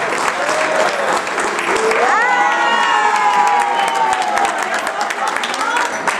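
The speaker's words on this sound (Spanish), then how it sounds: "Démosle fuerte aplauso" A crowd at a live music event applauds and cheers for a birthday, with steady clapping throughout. Whoops and shouted voices rise over it, and a person talks on top of the noise.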